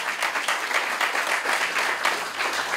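An audience applauds steadily at a union gathering honoring a longtime labor activist, dense clapping filling the room throughout without a break.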